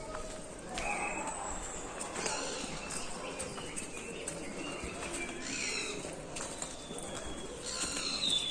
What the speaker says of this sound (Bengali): আর গাছের ফাঁক ফোকর দিয়ে পাখিরা এত সুন্দর শীষ দিচ্ছে